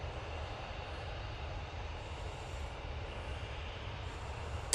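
A Jet2 Airbus A320ceo's engines produce a steady, low, droning hum, heard at a distance with a faint broadband hiss above it and no voices.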